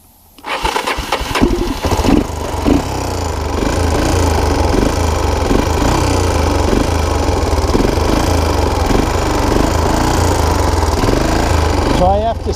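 Clapped-out Honda TRX250 ATV engine running steady and loud near the listener after starting, held just above idle with a slightly uneven throb; a voice is audible now and then.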